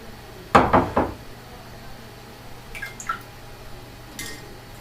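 An Imation Atom Blue 8GB waterproof USB flash drive being fished out of a water bath, giving a quick cluster of wet splashes and knocks followed by a few faint drips and small taps.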